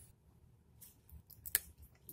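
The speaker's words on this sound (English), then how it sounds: "Let's cut something a little more substantial. I've got some USB cable here." A cheap stainless knife blade slices through a USB cable in a few faint scraping strokes that end in one sharp snip, close and quiet, with no talking.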